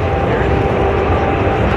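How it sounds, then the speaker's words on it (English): A C-17 Globemaster III taxiing into position at the SkyFest 2022 airshow at Fairchild AFB gives a steady, loud, broadband jet-engine roar that holds constant through the whole moment. "taxing out into position, ladies and gentlemen, the C-17 Globemaster III."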